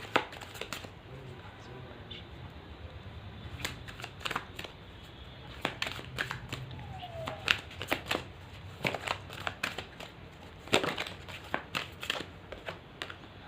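Tarot cards are shuffled and drawn by hand in crisp, uneven bursts of riffling and snapping, close and fairly quiet, with occasional soft speech.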